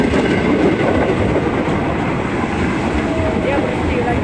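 A Japanese train rolls through a station with a loud, steady rumble and faint wheel squeals, close by and sustained, while people talk softly underneath.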